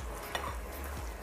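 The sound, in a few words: stirring seasoning into tofu mushroom balado in pan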